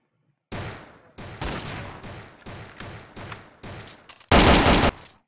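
Video game gunfire rings out in a rapid string of loud, close shots, each with a short ringing tail, ending in a heavier, denser burst, with no talk.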